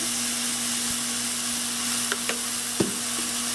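Hamburger meat browns in a frying pan with a steady, close sizzle throughout, a faint constant hum beneath it and a few brief clicks of a utensil near the end.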